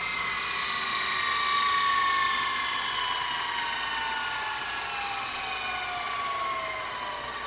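A Toshiba W804 S-VHS VCR fast-winds a tape with a steady high whine whose pitch slowly glides downward over several seconds. A faint mechanical whir sits underneath, with no speech.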